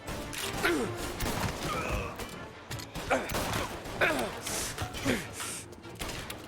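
Gunfire in Mafia: Definitive Edition, repeated bursts and impacts over several seconds, loud and close, mixed with crashes and thuds under ongoing game noise.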